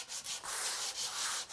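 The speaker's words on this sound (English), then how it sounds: "I'm trying to sand this one off where we puddled it a little bit too much" Close hand sanding of wood on a cabinet, quick back-and-forth abrasive strokes in a steady rhythm with short pauses between passes.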